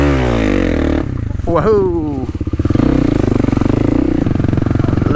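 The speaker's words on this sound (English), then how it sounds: "Little wheelie over the bridge" A dirt bike, a Kawasaki KLX300 or KX250F, revs hard and loud close by as it lifts into a wheelie over a bridge, its engine note rising and buzzing steadily, with a rider's exclamation over it.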